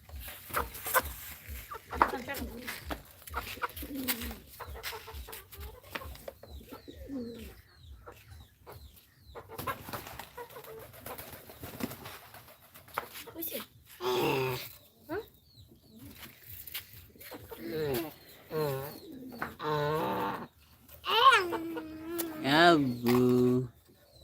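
Pakistani chickens and pigeons in a backyard bird colony, with clucks and calls coming in bursts over a buzzing background, and a person speaking at times.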